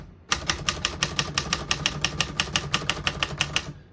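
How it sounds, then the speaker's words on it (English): Steady, even keystrokes on a 1967 Smith-Corona Corsair portable typewriter, about twenty crisp clacks in a row, heard up close with no voices. "As you can see, all the keys type nice and none of them skip or stick."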